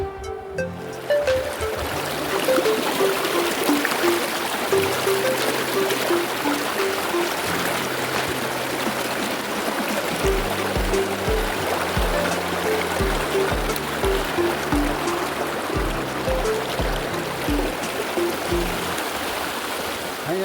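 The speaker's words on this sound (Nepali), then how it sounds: "फाइनली गाइस म यो खोलामा आइपुगेको छु होइन। यो बरुवा खोला हो।" Baruwa stream flowing steadily at a picnic spot, a continuous broadband rush of water heard from nearby with no pauses, alongside low rhythmic rumbling tones and faint tonal sounds in the background.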